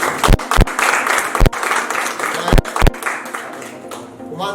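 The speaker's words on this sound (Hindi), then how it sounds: "होगी जोरदार तालियां" Loud applause from the crowd at an award show, continuous clapping with a few sharp, close claps standing out, briefly dying down at the end.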